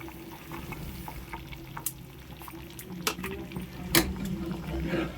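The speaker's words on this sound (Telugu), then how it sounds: "ఇది రవ్వ వేయించి పెట్టాను కదా, ఇది కొద్దిగా పోసి కలపాలి." Roasted semolina stirred into boiling water for upma in a pan, a bubbling, sizzling bed of sound with scraping strokes and a few sharp clinks of the spoon against the pan.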